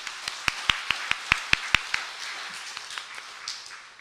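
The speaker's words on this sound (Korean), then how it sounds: "주님께 영광의 박수 부탁드립니다." A small church congregation claps, with about eight crisp, evenly spaced claps ringing out close and loud before scattered fainter claps trail off.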